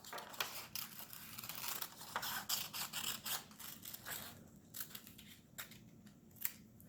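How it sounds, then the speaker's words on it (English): Scissors cut teardrop shapes out of paper, a rapid run of crisp snipping strokes followed by slower separate snips, close and fairly quiet with no talking. "let's cut our teardrop shapes out"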